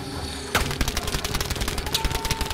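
Battlefield V gunfire: after a short lull, a dense rattle of rapid automatic shots erupts and keeps going, loud and close, with rhythmic cracks and faint distant booms behind.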